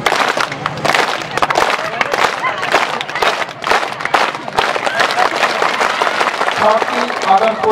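An audience at a Gond-language commemorative speech claps in a dense, sustained burst of applause, loud and close, with voices calling out through the clapping.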